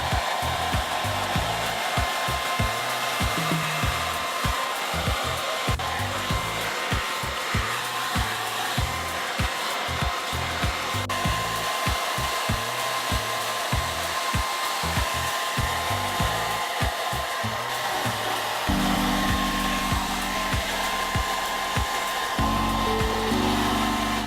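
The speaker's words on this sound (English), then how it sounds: "So I'm going to blow dry right now." A hair dryer blows steadily and loudly through a salon blow-dry during a haircut styling demo, its constant whooshing roar up close and unbroken, with the tone shifting slightly near the end as the setting or angle changes, and no talking.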